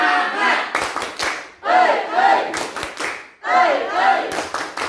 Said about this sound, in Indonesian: Sebelumnya ya, tepuk semangat.